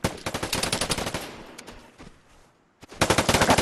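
Rapid bursts of automatic gunfire in a multiplayer video game shooter, loud and rhythmic, fading out briefly before another dense volley resumes.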